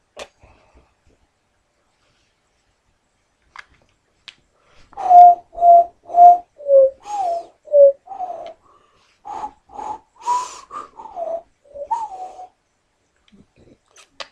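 A person whistles a wavering tune of short, separate notes, clear and close, with near silence before and after.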